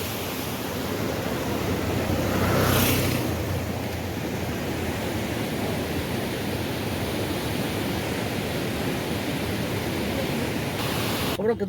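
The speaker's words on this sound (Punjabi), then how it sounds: "ਪਾਣੀ ਦੀ ਸਪੀਡ ਦੇਖੋ ਕਿੰਨੀ ਆ" Fast-rushing water roars in a dense, constant wash close by, steady and loud throughout.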